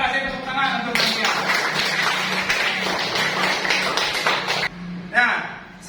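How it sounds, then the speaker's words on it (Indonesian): Students in a classroom clapping together for a classmate, a burst of steady applause that stops abruptly, with a teacher's voice before and after. "Kita kasih tepuk tangan untuk Nadia."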